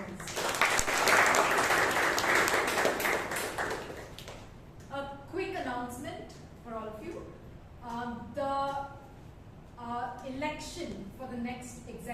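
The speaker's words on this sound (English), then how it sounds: "Let's give us you all a round of applause." Round of applause at a Toastmasters club meeting in Bangalore, dense clapping for about four seconds that then fades as a voice begins talking.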